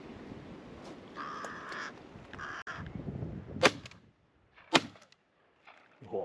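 A shotgun fires both barrels at crows over a spring-drilled field: two loud sharp bangs about a second apart, each cutting off quickly, with crow calls and wind noise before them.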